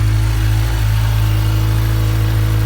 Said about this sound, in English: Beautiful cold start on a Super Bowl Sunday, February 11th, 2024